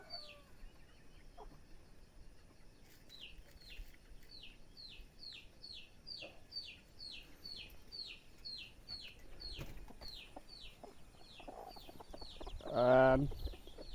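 Chickens cluck behind a house in a long rhythmic run of repeated short calls at moderate distance, with a louder squawk or rustle near the end.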